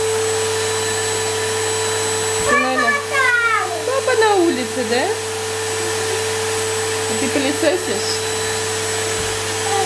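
A vacuum cleaner run by a child at home hums steadily throughout, an even drone, while a woman and a child chat over it.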